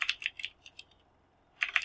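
Rapid keystrokes on a computer keyboard as Java code is typed, a close, crisp burst of clicks, a brief pause, then another quick cluster of keys, with no one speaking.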